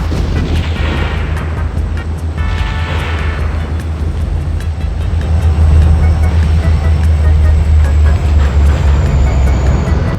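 A heavy train rolls steadily through a model railway layout, a loud continuous low rumble with rattling that swells and grows denser toward the end, with no voices.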